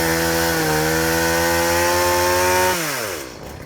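A chainsaw cuts into wood with a steady, loud whining drone. It is run by a first-time user. The engine pitch bogs down near the end as the saw winds down, and no one talks over it.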